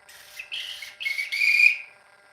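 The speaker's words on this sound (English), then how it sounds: "a whistle, really nice whistle." A percussion whistle sounds four times in quick succession, loud and shrill, with the last blast the longest, all alone and close.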